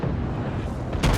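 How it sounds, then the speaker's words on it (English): Main guns of the Nassau battleship in World of Warships boom in a low, rumbling roar lasting about a second, then a fresh loud burst cracks out near the end. "my guns on my right side are loaded, so I fire here"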